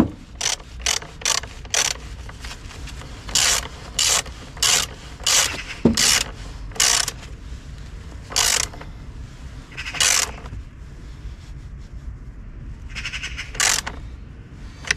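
A ratchet wrench tightens the battery terminal nut on an Opel Astra H, giving repeated short clicking bursts in an irregular rhythm, close and fairly loud, with no talk.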